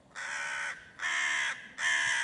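A cartoon crow, stuck by a water pot it cannot drink from, gives three loud, drawn-out caws in steady succession, each separated by a short pause, with no other sound around them.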